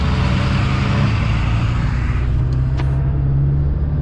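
A Cummins diesel truck engine rumbles loud and close, a deep, steady drone that holds throughout with no pauses.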